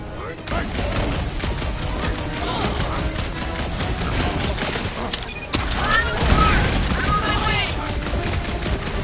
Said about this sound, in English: Did I hear blasters? You sure did.